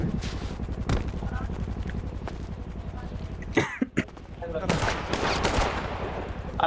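Bursts of video-game gunfire crackle through a team shooter match, with sharp broadband shots clustered around the middle and end amid steady background game noise and chatter.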